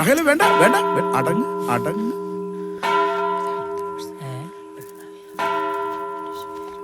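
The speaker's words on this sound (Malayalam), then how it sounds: "അതെ, മണിയടിച്ചത് നന്നായി" A bell rings out in three separate strikes spaced a few seconds apart, each leaving a long, ringing tone that slowly fades, with a voice heard briefly at the start.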